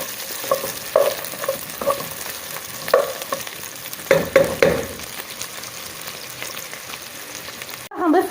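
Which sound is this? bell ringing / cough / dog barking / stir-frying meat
stir-frying meat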